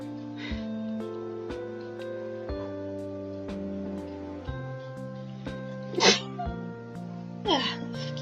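A sneeze bursts out over steady background game music in Yandere Simulator, with a second sneeze following about a second and a half later, both fairly close and loud against the music.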